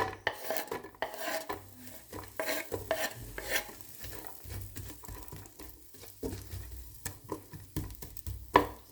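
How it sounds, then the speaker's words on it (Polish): Busy pan cooking with frequent utensil scrapes and clinks against the pan over a soft, steady sizzle of frying onion; no talking. "Zaczynamy, tak jak wspominałem, od cebulki. Wrzucamy na patelnię."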